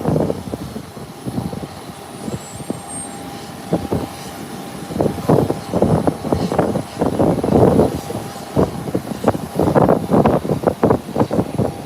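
An American Airlines airliner inbound from Miami approaches, its jet engines building from a distant hum into a louder, fluctuating roar with gusty wind noise over the microphone.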